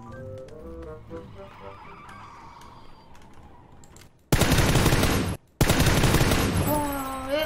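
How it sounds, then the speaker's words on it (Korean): Loud sustained bursts of video-game gunfire erupt after several seconds of quieter game sounds, broken by a brief pause before the rapid firing resumes. "내가 총 너무 잘 쏜다"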